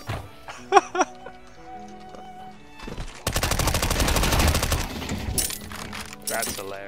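Gunfire in a video game: a dense, loud run of rapid shots in the middle, preceded by scattered clicks and faint game sounds and followed by a few sharper bursts.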